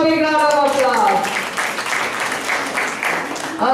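Audience applause at a children's school show at Chitrakoota School in Bangalore, a steady wash of clapping filling the hall for several seconds while voices carry over it at the start.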